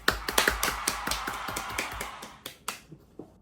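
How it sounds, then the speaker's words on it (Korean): A few people clap in a brief round of applause, with close, crisp individual claps that thin out and stop within a few seconds. "박수!"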